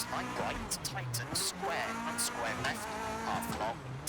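Engine note of an F2 kit car in the rally game EA WRC on twisty tarmac roads, with rising and falling revs and gear changes running steadily throughout under continuous talking.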